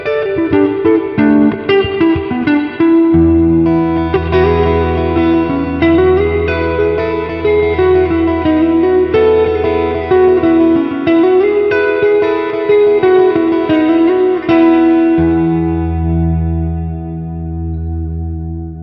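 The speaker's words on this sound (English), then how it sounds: "The Holy Grail has a very uncolored natural sound, which makes its hall effect really nice." A sustained electric guitar line through an Electro-Harmonix Holy Grail reverb pedal's hall setting rings out, notes blooming into a long spacious tail that slowly fades at the end.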